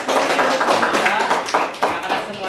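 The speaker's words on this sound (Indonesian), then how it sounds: "Oke, tepuk tangan semuanya." Students in an Islamic religious education classroom clap together after the teacher prompts them, a dense, continuous patter of claps lasting a couple of seconds with a few sharper hits and voices mixed in.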